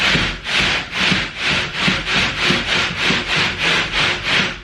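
Two plasterboard edges are rubbed together to square them off, giving about a dozen loud, regular rasping back-and-forth strokes close up with no talking.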